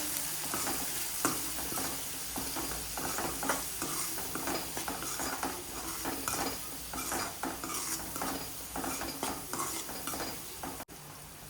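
Sliced onions sizzle in a pan with spices while a utensil scrapes and stirs repeatedly, an irregular rhythm of metallic scraping over constant frying noise.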